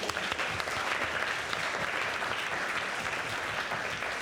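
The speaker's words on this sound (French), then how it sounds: "on les applaudit encore une fois bien fort" Dense, loud audience applause at a talent show following a performance, a steady unbroken wash of many hands clapping close by for the whole stretch, with no voices over it.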